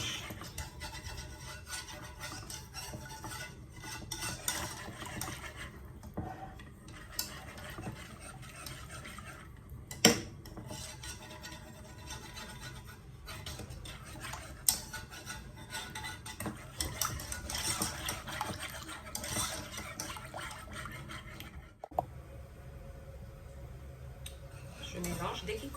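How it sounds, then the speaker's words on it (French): Flour, oil and water being stirred together in a pot, giving a steady close scraping and rubbing with light clinks of utensil on metal, continuing for the whole stretch with a few sharper knocks. "Je mélange."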